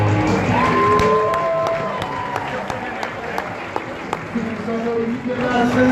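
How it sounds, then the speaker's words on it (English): The audience at the Stand Up Live comedy club claps and cheers, with whoops and crowd noise carrying over steady applause while an announcer's voice sounds over it. "Give yourselves a big round of applause for coming out tonight."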